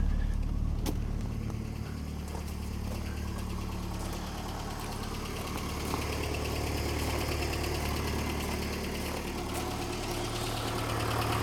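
A 1984 Ford Escort cabriolet with a 1.6 CVH engine idles on choke after a cold start, giving a steady, even mechanical hum with a faint rhythmic tick, fairly quiet and heard alone.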